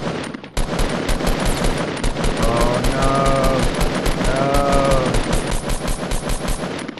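Rapid automatic gunfire from a Fortnite match, a dense, continuous stream of loud shots lasting several seconds, with a player's voice talking over the shooting.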